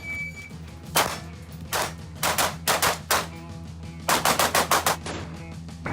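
Gunfire from a John Wick film rings out in sharp, loud bursts, with single shots followed by rapid clusters of automatic fire separated by short pauses.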